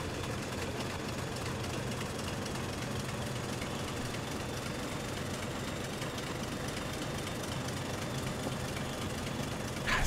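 A non-electric diesel train engine in Train Simulator 2021 on the Weardale and Teesdale line runs steadily and loudly throughout, a deep continuous rumble with a slight rise at the very end and no talk.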